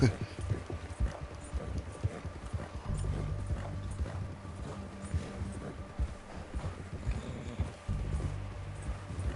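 Horse hooves clip-clop at a steady walking pace in the Red Dead Redemption 2 video game, a continuous moderate rhythm heard under ongoing talk and game ambience.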